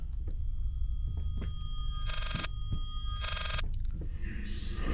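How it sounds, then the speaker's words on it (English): A telephone rings inside the horror game Layers of Fear, two bright electronic bursts about a second apart over a steady low rumbling ambience, with faint thuds in between. "Is that a phone ringing?"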